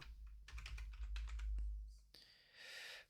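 Keys clatter on a computer keyboard in quick bursts of typing, close and fairly quiet, with a short pause between bursts and a low hum beneath.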